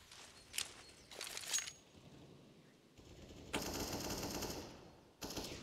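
MAC-10 submachine gun fire in a Counter-Strike match at an ESEA esports event, with short rapid bursts, a brief pause, then longer sustained loud bursts up close.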